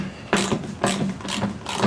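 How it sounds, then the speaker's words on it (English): A wrench loosens the 14 mm nuts holding a snowblower's scraper shoe. It gives four bursts of close ratcheting clicks at an even rhythm, with no talk. "loosen off these two nuts. Mine happen to be 14 millimeter nuts"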